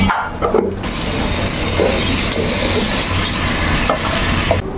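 Ginger and garlic sauté in a pan for a tehari rice dish, giving a steady, close sizzle and frying crackle that holds throughout, with occasional light stirring clatter and no voices.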